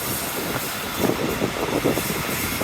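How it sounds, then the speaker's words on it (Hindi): The Karachi Express rolls into Okara city on its Rohri to Lahore run. Loud, broadband rumble and rushing wind fill the clip, with rhythmic clatter pulses from the wheels on the rails growing stronger midway. No voices are heard. "पूरे 2 बजे हमारी ट्रेन एंटर हो गई है ओकाड़ा सिटी में"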